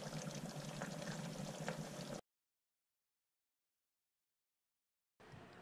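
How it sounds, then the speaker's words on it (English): A pot of soup simmers on the stove with a steady close bubbling hiss, which cuts to total silence for about three seconds and then picks up again briefly, with no talking. "Our soup has been simmering"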